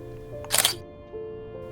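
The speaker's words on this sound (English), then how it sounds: "Let's just get a picture of the Portobello Road sign here." A Canon M50 Mark II fires its shutter once at 1/500 s on a London street at Portobello Road, a sharp, close mechanical click-clack with a steady tonal hum behind it.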